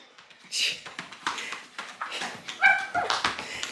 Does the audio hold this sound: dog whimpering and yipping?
yes